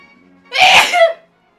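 A single loud, close human sneeze bursts out alone against a quiet background, with a sharp intake and a strong, breathy release lasting about a second.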